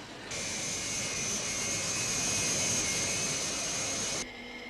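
A steady, loud roar of an unidentified aircraft flying very high, far off the air lanes, holding constant for about four seconds before cutting off abruptly.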